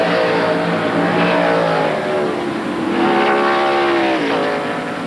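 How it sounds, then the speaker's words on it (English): 1993 NASCAR road-course race car running near turn 10 on a circuit in California, its engine droning loud and steady at close range, pitch sliding up and down as the throttle shifts, with no voices heard. "He backs off the gas."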